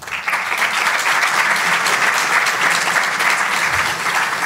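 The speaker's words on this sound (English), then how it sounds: "So everyone give him a round of applause" An audience at a blockchain security talk gives a round of applause, a dense, even burst of clapping that stays loud and steady throughout with no talking over it.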